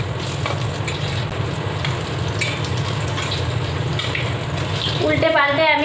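Raw banana koftas fry in hot oil over a low gas flame, giving a steady, close sizzle and crackle that runs the whole time, with a light stirring or water-like splash near the end.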